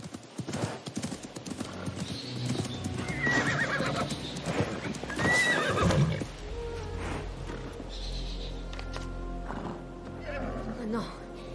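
Hooves clop loudly up close as a horse snorts and lets out a sharp whinny, followed by a low rumbling ambience with people talking, in the video game Assassin's Creed Mirage.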